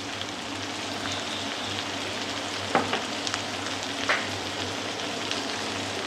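Cinnamon, cloves, cardamom and salt frying in a pan for chicken curry: a steady close sizzle with a few crisp clacks from stirring, and no one speaking.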